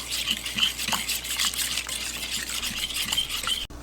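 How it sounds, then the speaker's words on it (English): Venison breakfast sausage mixture being mixed by hand produces steady squelching and rubbing sounds in a repeated rhythm, close and moderately quiet, with no talking. "I'm just mixing this by hand."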